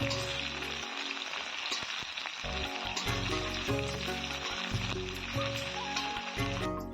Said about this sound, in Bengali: কুচানো পেঁয়াজটাকে এবার কিছুক্ষণ ভেজে নেবো